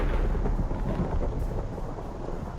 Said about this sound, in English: as I hear another fucking lightning bolt strike